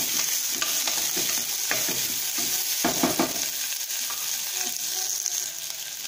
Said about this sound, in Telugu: కలిపి ఒక 2 మినిట్స్ వేయించుకోవాలి.